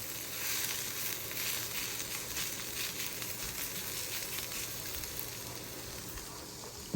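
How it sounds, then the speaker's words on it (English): Onions browning in a frying pan for a meal-kit dish give a continuous, even, crackling sizzle throughout, close and steady with faint stirring, no talking. "4 to 5 minutes to get these onions kind of turning brown."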